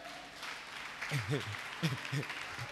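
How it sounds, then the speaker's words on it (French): Church congregation in a sermon setting breaks into sustained applause and cheering, with raised voices and shouts mixed over the clapping throughout. "Acclamons Dieu pour Bathsheba."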